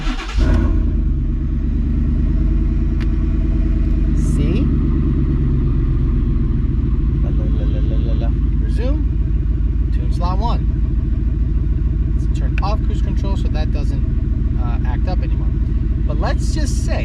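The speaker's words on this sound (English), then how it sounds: "Let's turn the truck on. Is it gonna chop, or is it gonna be regular idle with tune slot 1" Ford F150 truck engine turning over and settling into a steady loud idle on a tuned setup, a close continuous low rumble with someone talking over it throughout.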